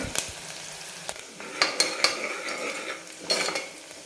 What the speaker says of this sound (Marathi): आपण आता हा कांदा छानपैकी परतून घेऊ